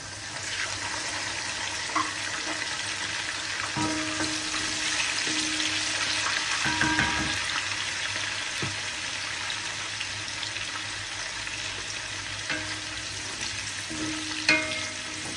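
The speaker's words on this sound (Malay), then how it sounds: "Dan ada juga kita gorengkan." Food sizzles and crackles steadily in a hot pan, with occasional clinks and scrapes of a utensil stirring.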